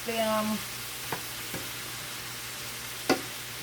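Vegetables sautéing in a pan for a white shrimp pasta, a soft steady sizzle with a few faint clinks of a utensil against the pan.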